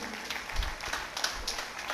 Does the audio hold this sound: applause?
yes